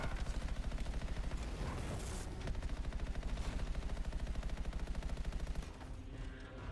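A rapid-firing weapon in the video game Anthem chatters in a fast, even stream of loud shots that runs almost continuously, then cuts off near the end, leaving quieter game sounds.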